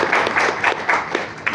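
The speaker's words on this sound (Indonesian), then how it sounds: "Beri tepuk tangan untuk fasilitator kita hari ini." Brief burst of applause from an audience at a teachers' event, a quick run of claps at moderate distance lasting only a moment.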